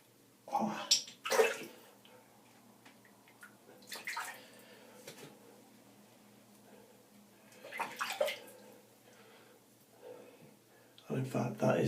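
Bursts of splashing water come and go as it is worked into shaving soap during lathering, several separate wet surges spread over the stretch with quieter pauses between.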